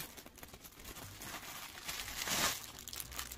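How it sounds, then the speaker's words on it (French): Plastic or paper packaging being torn open during an unboxing of a cross-stitch kit order, crinkling steadily and rising to a louder rip near the end, close and alone. "On va déchirer, tant pis."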